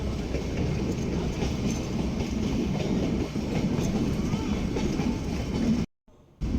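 Nilgiri Mountain Railway toy train running from Ooty to Coonoor, a steady close rumble of wheels and carriages with clickety-clack underneath, continuous until a brief dropout near the end.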